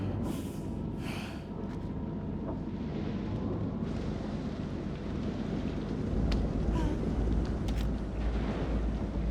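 Thunderstorm in the video game Man of Medan, a steady wash of heavy rain with deep rolling thunder that swells louder toward the end, plus a few faint scattered clicks and no speech.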